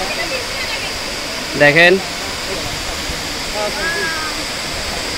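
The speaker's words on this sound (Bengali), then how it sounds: "অনেক সুন্দর একটা ঝর্ণা, অনেক সুন্দর একটা ঝর্ণা।" Double Falls waterfall at Ruma in Bandarban, a loud, steady broadband roar of falling water filling the scene close by, with a brief spoken word and a faint second voice over it.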